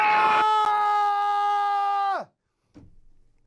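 A woman lets out a long, loud sustained scream for about two seconds that cuts off abruptly, followed by a brief faint breathy sound after a short silence.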